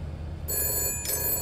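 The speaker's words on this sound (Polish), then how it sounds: "Tam jest telefon. I tam zadzwoni o 13:26." A telephone rings in the Shadows of Doubt video game, with two loud bursts of electronic ringing separated by a brief pause and no voices over it.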